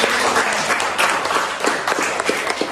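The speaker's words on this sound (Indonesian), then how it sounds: "Berikan aplaus" A classroom full of students applauds during an Indonesian teaching-practice lesson, with dense, steady clapping that continues evenly throughout, close and fairly loud.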